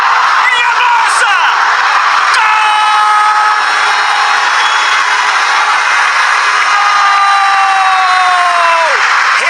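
Stadium crowd in Turin roaring and applauding a goal at a Champions League match, a dense sustained broadband wash of cheering with rising whistles and shouts, loud and continuous throughout.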